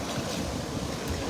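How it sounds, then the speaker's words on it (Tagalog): Strong wind roars steadily outdoors near the water, a constant broadband rush buffeting the microphone. "Malakas yung hangin din po"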